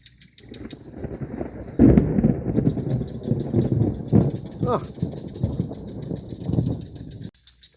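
Thunder rumbles through a lightning storm beside a river during a fishing trip, a low broadband roll that swells and persists for several seconds with wind buffeting the microphone, while someone talks over it.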